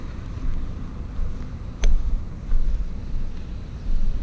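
A Bajaj Avenger 220 cruiser motorcycle riding at 90 to 100 km/h gives a steady low rumble under broadband wind buffeting, with a few louder gusts along the way.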